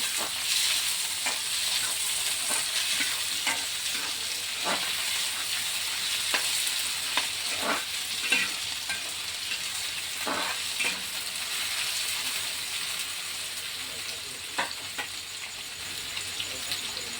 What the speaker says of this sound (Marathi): याच्यात बारीक चिरलेला आलू टाकणार आहे ते एक मिनटा कलसून घ्यायचं आहे